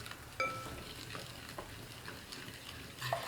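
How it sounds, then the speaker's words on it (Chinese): Flour batter for chive pockets is stirred in a bowl until smooth, a faint, steady soft swishing with a few light clinks against the bowl. "我们这个面糊一定要多搅拌一会儿，搅至光滑细腻的状态"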